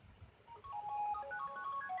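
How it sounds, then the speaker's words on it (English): A mobile phone rings with a short sequence of electronic tones, faint and mid-distance over quiet outdoor ambience beside a river. "My phone's ringing again."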